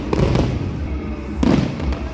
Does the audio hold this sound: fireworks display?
yes